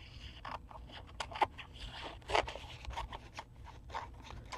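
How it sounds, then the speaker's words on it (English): Scissors snip along the edge of a new paper pack: a quiet series of short, crisp crunching cuts and paper rustles, close and faint, with no talking. "And I'm going to come in with the scissors,"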